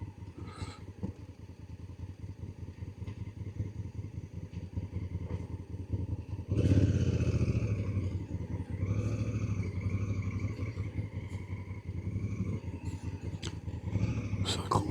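Motorcycle riding through Pinnacles National Park, a steady engine drone with rhythmic rumble that grows louder and rougher midway, as if accelerating, with wind and road noise close by.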